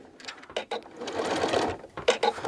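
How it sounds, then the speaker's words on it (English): A sewing machine stitches over the zipper area of a small zipper case to reinforce the seams, straining against the thickness. Rapid mechanical stitching runs in close, loud bursts separated by short pauses. "back of the sewing machine, we're going to reinforce those stitches again."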